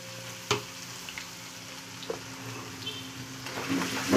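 Ginger, garlic and green chili paste frying in a pan while cooking potato paratha filling, a soft continuous sizzle with a few sharp spoon taps and stirring scrapes, close by.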